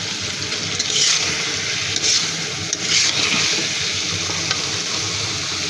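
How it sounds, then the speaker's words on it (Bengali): Prawns sizzle steadily in hot oil as they are stirred with sliced green chillies, a close, continuous frying hiss with occasional louder bursts of spatula movement. "নেড়ে চেড়ে কষিয়ে নেব। সাথে দিয়ে দেবো কাঁচামরিচ ফালি।"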